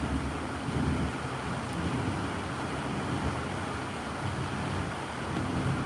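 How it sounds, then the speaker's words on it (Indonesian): Heavy rain falling as a steady, dense broadband hiss that stays even and fairly loud from start to finish, with no talk over it. "Di sini hujan gede guys."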